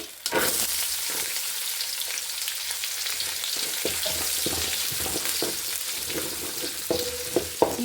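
Onion and mustard seeds frying in oil for palak rice, a loud, continuous close sizzle with crackling pops and occasional stirring knocks against the pan.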